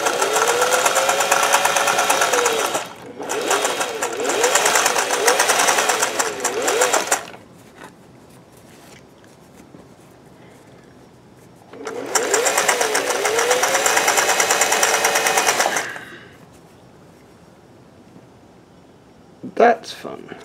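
Sewing machine fitted with a Schmetz universal triple needle stitching over cord, running in two steady bursts of about four to five seconds each, loud and close, with quiet pauses between and a brief clunk at the end.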